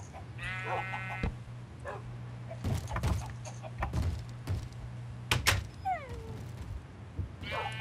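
Sheep bleating in the video game Minecraft, a few short wavering bleats over a low steady hum, with faint clicks and other game sounds in between, no talking.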